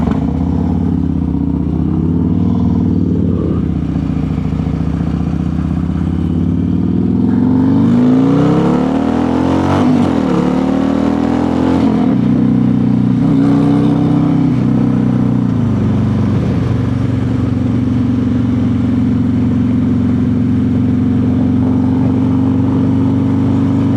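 A highly tuned vehicle revving and accelerating, loud and close, with engine pitch sweeping up and down through gear changes before settling into a steady sustained drone.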